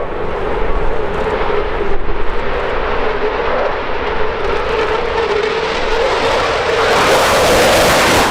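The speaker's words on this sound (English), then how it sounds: "Jim Peterson then landing on with the Eurofighter Typhoon FGR-4" A Eurofighter Typhoon FGR-4 jet landing at an airshow, its loud continuous engine roar filling the air, broadband and rumbling, swelling slightly stronger toward the end with no voices.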